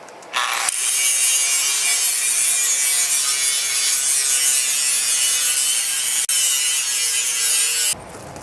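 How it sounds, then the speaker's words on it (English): An angle grinder grinds excess steel off a welded metal gate in one long, loud, steady pass with a brief dip partway, starting and stopping abruptly. "I may start grinding on this and cutting off all the extra steel"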